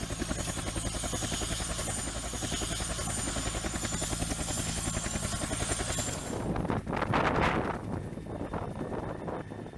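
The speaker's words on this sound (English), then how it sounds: "the UH1Y Venom has replaced the Marine Corps' UH-N1 twin Huey light utility helicopters" Continuous heavy rotor thump and turbine whine of a UH-1Y Venom military helicopter, loud and close, with a gusty whoosh swelling toward the end.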